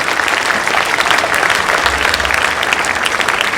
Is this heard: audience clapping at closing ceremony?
yes